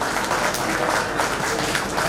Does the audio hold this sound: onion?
no